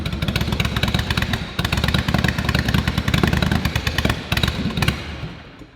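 A cold carbureted motorcycle engine fires up and settles into a loud, lumpy idle with rapid uneven pulses and mechanical clatter, close by and steady for several seconds before tapering slightly at the end.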